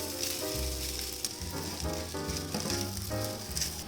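Egg, cooked rice and a heaped tablespoon of minced garlic are stir-fried in a hot pan, making a steady loud sizzle broken by rhythmic scraping strokes of a spatula, close up, with no voices.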